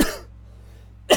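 A single short cough bursts out at the end after a brief breath and near silence, close to the mic from someone with a lingering cough.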